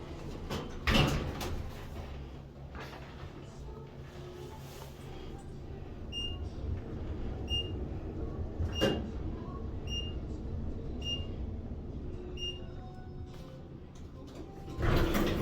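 A Schindler traction low-rise elevator at a Las Vegas resort tower slides its door shut with a soft rumble and a thud at the end, while a steady run of short electronic beeps repeats over quiet cab hum.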